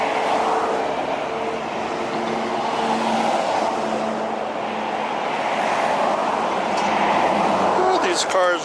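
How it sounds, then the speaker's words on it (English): Cars driving past on a road near an airport, a steady broadband traffic wash that stays loud throughout, with aircraft noise possible in the mix and talk heard faintly over it. "These cars are driving me nuts."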